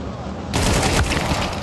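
Mac-10 submachine gun fire in Counter-Strike 2 during an esports playoff match, a dense loud burst of rapid shots breaking in after a brief lull, with a commentator's voice underneath.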